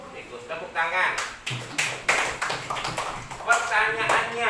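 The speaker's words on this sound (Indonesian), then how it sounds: "Tepuk tangan." Schoolchildren in a fifth-grade classroom clap their hands in short, uneven bursts, a rapid patter of claps with voices mixed in throughout.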